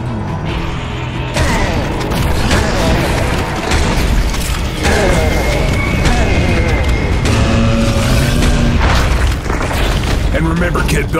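Belcher enemies bursting apart in Serious Sam 4 amid dense, continuous in-game combat, loud booms and mechanical clatter layered over a voice talking throughout.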